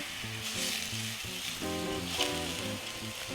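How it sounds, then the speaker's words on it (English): Biltong risotto with butternut squash is stirred continuously in a pan as stock is added a little at a time, producing a soft, steady sizzle and scraping under background music. "what you want to do is adopt this continuous stirring motion"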